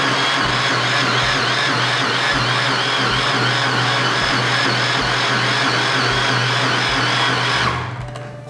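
A hand blender chops carrots at low speed for muffin batter, its steady motor whine running loud and unbroken before cutting off near the end, with no talking.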